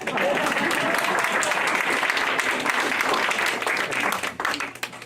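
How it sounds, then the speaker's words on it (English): Steady, dense applause from a talent show crowd, sustained throughout and tapering slightly near the end. "Applaud now, applaud now."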